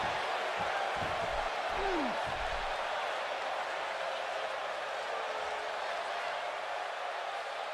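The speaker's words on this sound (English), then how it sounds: "by the sounds of it, this crowd is ready for anything that happens tonight" Arena crowd murmur before a WWE 2K17 SmackDown match, a constant loud hum of cheering ambience with brief thumps and a rising whistle early on, continuing unbroken throughout.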